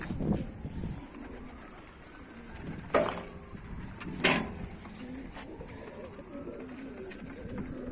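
Pigeons in a coop, including Bango and Kelebek breeds: soft, low cooing and rustling near at hand, with a couple of brief louder flutters and faint background voices.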